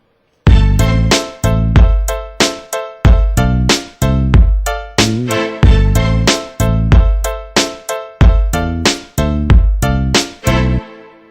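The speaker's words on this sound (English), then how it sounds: "Okay, now we have the string hits." Sharp orchestral string stabs hit in a punchy rhythmic pattern, each loud chord cut off quickly, repeating like a beat with low booming accents.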